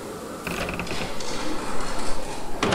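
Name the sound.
door creaking open in a video game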